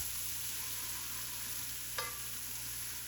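A spoon stirs thick corn chowder in a pot, making a soft, steady scraping and swishing with one brief sharper scrape near the end, all under a constant background hiss.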